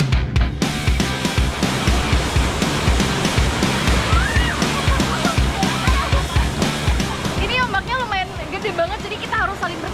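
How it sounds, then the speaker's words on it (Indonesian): Waves crash and surge on a south coast Java beach at low tide, a loud continuous roar of churning surf with people's voices and shouts mixed in nearby. "Air laut berangsur surut, namun deburan ombak pantai selatan"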